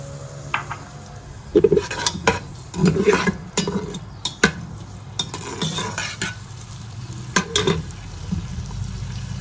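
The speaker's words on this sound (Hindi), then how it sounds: "मैंने प्याज को कट कर ली है और इसके बाद मैं इसमें तकरीबन 100 ml के करीब जो है ना मैंने इसमें कुकिंग ऑयल डाला है।" Chopped onions frying in about 100 ml of cooking oil for restaurant-style pulao, a soft sizzle under repeated clinks and scrapes of a spoon against the pot.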